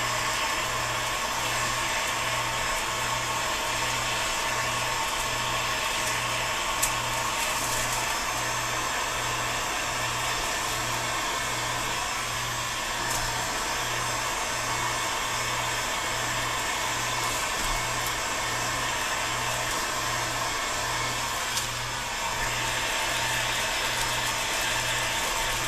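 Heat gun blowing hot air onto the sides of a PVC bow, a continuous loud fan-driven roar with a faint pulsing hum underneath, steady throughout.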